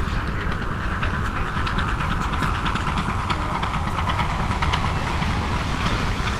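A train in the video game Gears of War rumbles steadily along with a dense, continuous mechanical roar and rhythmic clatter, no voices.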